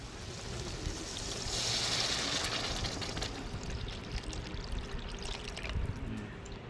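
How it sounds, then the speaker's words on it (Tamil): Dissolved tamarind water is poured into a pan of frying eggplant with onion, tomato and dried chillies in oil. A loud, continuous sizzling splash builds and then settles into a steady hiss and bubbling, with no talking. "நம்ம கரைச்சி வச்சிருக்க புளியை சேர்த்துக்கிறோம்."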